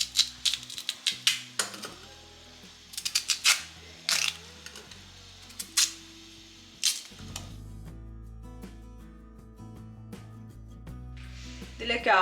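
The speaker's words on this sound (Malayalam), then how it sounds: "അപ്പം ആദ്യം കട്ട് ചെയ്ത് കൊടുക്കാം" Taro root being cut on a board in a home kitchen, a run of sharp knife chops and clicks in uneven bursts, then quieter handling under steady background music.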